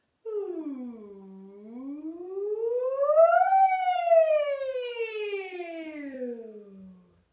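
A community choir sings a long rising then falling glide together during a warm-up, imitating a siren's wail, clear and close with no other sound.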